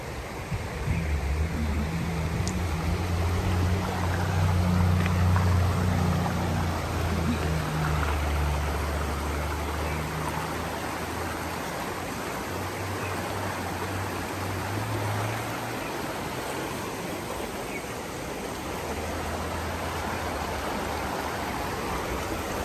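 Steady broadband rush of stream water flowing near a waterfall at Mt Barney, continuous and fairly loud throughout, with a low rumbling layer that fades after the first half.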